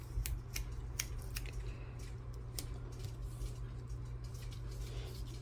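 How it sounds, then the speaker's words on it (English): Scissors snipping paper while making an envelope journal, a handful of sharp, close clicks and cuts spaced irregularly over a low steady hum, with no talk. "And then I'll just cut it off."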